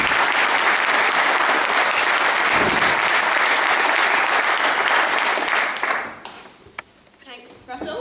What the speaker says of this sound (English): please put your hands together and join me in welcoming Stella Anderson